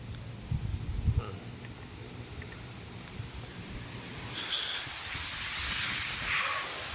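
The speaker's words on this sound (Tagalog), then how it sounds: "Yung hangin. Lakas." Strong wind gusts at a rainy campsite, a steady broadband rush with buffeting low rumble against the microphone, swelling louder in the second half with no voices.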